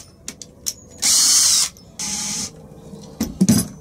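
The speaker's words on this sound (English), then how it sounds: "So I'm drilling the holes and I'll put the screws in later." A power drill bores holes into wood for a homemade sofa, with two loud whirring bursts of about half a second each, bracketed by clicks and handling knocks close up.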